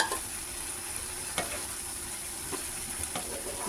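Mixed vegetables stirred in a pan for ginataang mixed vegetables, giving a steady close sizzle with a few sharp scrape-like spikes from the stirring and no talk.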